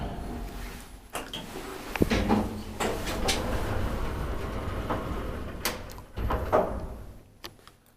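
Sliding door of an old Kone traction elevator in a Finnish apartment building, with several knocks and thuds of the door moving and closing over a steady mechanical hum, a heavier clunk near the end.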